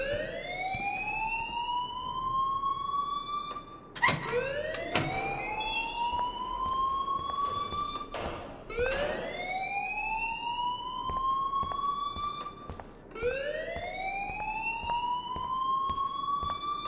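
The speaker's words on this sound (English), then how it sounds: "please turn off that alarm since that's your job" A repeating electronic alarm from the video game Life Is Strange rises in a steady upward sweep about every four seconds. It stays loud and continuous with a few sharp clicks between sweeps.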